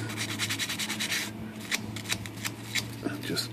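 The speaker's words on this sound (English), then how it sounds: "just take the sandpaper and just run it right on these contacts" Sandpaper rubs along the slide switch contacts of a Smith Corona PWP 50 electronic typewriter word processor, giving quick rhythmic scratching strokes that are close and moderately loud, with a low hum underneath.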